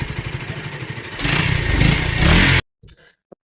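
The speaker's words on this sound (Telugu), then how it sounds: "బైక్ అయితే ఫైనల్గా స్టార్ట్ అయిపోయింది" A KTM Duke motorcycle, just started after a battery-down problem and new magneto coil, runs with a rough throbbing idle that swells into a louder rev before cutting off abruptly, followed by brief faint knocks.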